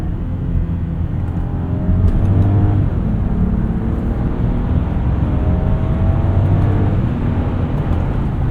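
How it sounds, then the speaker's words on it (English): A 2026 Land Rover Discovery engine revs up in sport mode, with pitch climbing and falling in repeated sweeps, a steady loud drone beneath. "Let's go into sport mode. Give us some revs."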